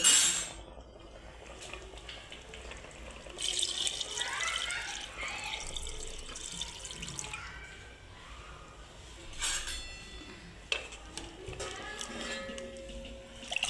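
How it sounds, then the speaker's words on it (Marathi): Water poured over goat mutton in a pressure cooker, several bursts of splashing and trickling separated by quieter gaps, with occasional metallic clinks from the pot, close and moderate in level. "थोडंसं पाणी टाकायचं."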